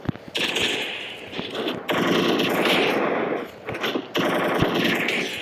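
Desert Eagle pistol fire in the mobile shooter Free Fire, loud and close, with a few distinct shot bursts separated by short gaps amid game effects.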